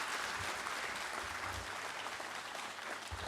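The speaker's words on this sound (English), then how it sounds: "So I request, everyone kindly give a round of applause for sir." A conference audience at a national GST event gives the speaker a sustained round of applause. The dense clapping continues without a break and is heard from a moderate distance.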